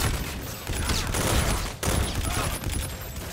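Rapid gunfire from the Call of Duty: Infinite Warfare shooter, a dense continuous burst of automatic shots that stays loud throughout, with a short break partway through before the firing resumes.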